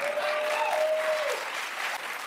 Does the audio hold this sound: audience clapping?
yes